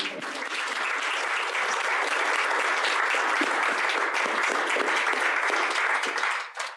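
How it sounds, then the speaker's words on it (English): A live audience at a talk with cricketer Ashton Agar breaks into dense, sustained applause that holds strong for several seconds before fading at the end. "Give him a round of applause, guys."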